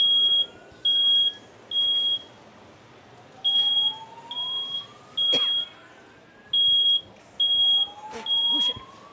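A smoke alarm sounds in three-beep bursts, loud and piercing, repeating in a steady pattern with brief gaps and some faint background noise.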